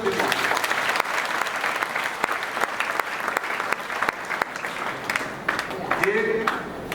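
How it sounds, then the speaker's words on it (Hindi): Audience at a Purushottam Maas katha gathering at an ashram in Burhanpur claps steadily for the event's helpers, dense applause running the full length with a few sharper claps standing out. "तो जरा तालियां बजा दो इनके लिए।"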